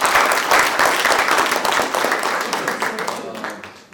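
A hall audience gathered from across Pakistan breaks into applause at a peace program, loud, dense clapping that starts strong and gradually thins and fades toward the end, with some voices mixed in.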